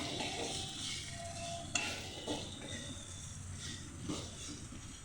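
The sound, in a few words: stirring egg and potato fry in a pan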